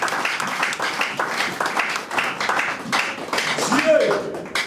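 Church congregation at a Camps de Dieu gathering in Beauvais clapping steadily and applauding, a dense, loud run of claps under continuous singing and voices.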